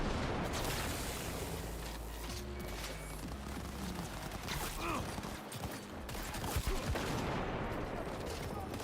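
Turret gunfire in Cyberpunk 2077: rapid bursts of mechanical shots layered over a dense rumble of game noise and effects, fairly faint overall and continuous for several seconds.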